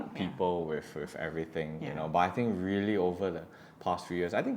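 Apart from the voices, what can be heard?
None of the usual background noises is heard.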